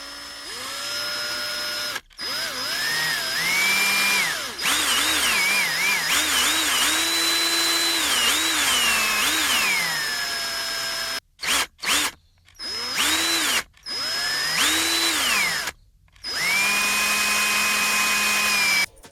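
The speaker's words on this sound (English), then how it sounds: "And these are all going to be Phillips head screws. So I'm going to take these out and show you how it's done." A power screwdriver or drill backs out Phillips head screws from a JVC MX-J700 speaker, loud whining motor runs that rise and fall in pitch, cut by brief pauses and several short bursts near the end.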